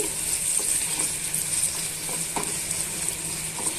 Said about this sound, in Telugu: ఇవన్నీ బాగా మిక్స్ చేసుకొని పచ్చివాసన పోయేంత వరకు మనం వేయించుకోవాలి